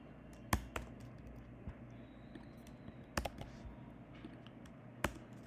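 Keys clack on a computer keyboard as code is entered, with a few sharp, distinct strikes spaced irregularly over soft background hiss. The typing is quiet and close, with no talking.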